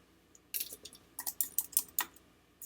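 Quick, light taps on a computer keyboard come in a short irregular burst of about a dozen clicks, close and fairly faint, with no voice.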